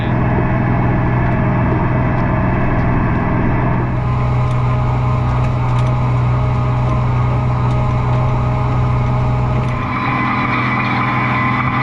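An Allis-Chalmers power shift tractor engine running in a field, a loud, steady, droning rumble close by that shifts slightly in tone partway through, with no speech.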